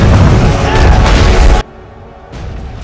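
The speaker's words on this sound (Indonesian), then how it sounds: "Setelah balista ditembakkan" A ballista fires in a war-film siege, a loud, close, rumbling boom for about a second and a half that cuts off abruptly to a quiet bed, with a softer swell afterwards.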